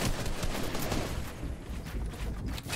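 Sniper rifle fire in the Fortnite Zone Wars battle royale mode, a dense, continuous wash of game gunfire and noise with no distinct individual shots standing out.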